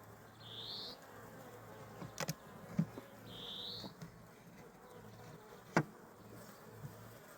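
Soft honeybee buzzing drones faintly and steadily at a hive, with a couple of brief higher whines drifting past and a few faint clicks and taps.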